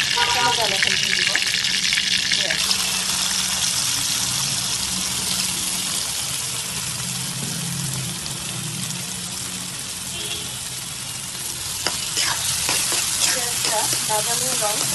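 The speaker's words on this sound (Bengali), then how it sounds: "যতক্ষণ না পর্যন্ত বাদামি রং হয় ততক্ষণ আপনি সুন্দর করে ভাজতে থাকবেন" Onions fry in a pan in a loud, continuous sizzle, with stirring scrapes and a brief watery gush partway through, close-up and steady, no voices.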